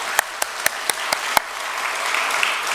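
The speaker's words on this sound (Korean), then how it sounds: "우리 다 같이 환영과 축복의 박수 하겠습니다." A church congregation at a Sunday service claps in welcome, opening with several sharp, evenly spaced claps that build into a steady wash of applause at moderate volume.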